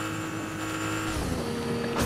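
Video-game car engine revving steadily and loudly with a shifting pitch, ending in a brighter burst of noise; no talking.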